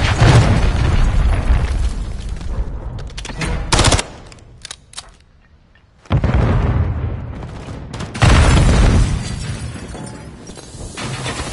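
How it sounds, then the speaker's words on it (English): A cruise missile strike in a ranked multiplayer video game: loud explosive blasts and crackling debris, a sharp drop to near silence midway, then heavy booming resumes, with scattered gunfire around it. "Friendly cruise missile deployed."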